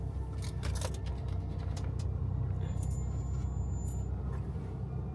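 A car drives along a road, its steady low rumble constant and fairly loud throughout, with a few faint rattles and clicks inside the cabin.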